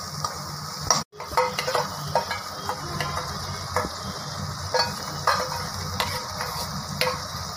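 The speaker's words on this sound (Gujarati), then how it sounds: "હવે કાજુ ટમેટોની પ્યુરી બનાવી હતી એ નાખીશું." Cashew tomato puree for a restaurant-style Hyderabadi Nizami handi mix veg sabzi sizzles steadily in a pan, close up, with repeated scraping stirs and a brief sharp clatter near the start, no voices.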